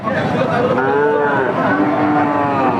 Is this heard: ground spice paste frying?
no